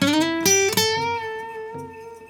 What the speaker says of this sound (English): The first one is vibrato, and I use it a lot in guitar playing.